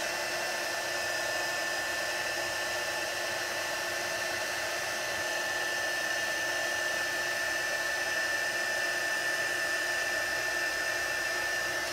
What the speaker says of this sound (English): what I'm doing is just moving that heat gun straight over the image